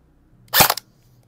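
A single sharp shot from a SLONG NTR Scorpion airsoft gun fired over a chronograph, a brief crisp pop with a short mechanical rattle, alone in a quiet room.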